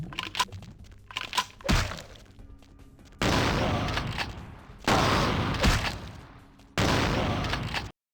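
Shotgun fire in Vampire: The Masquerade - Bloodlines, with a few short clicks and thuds followed by three loud, close, sustained blasts, each cut off sharply.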